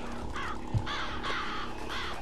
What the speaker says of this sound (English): God dang it, I want to shoot the birds.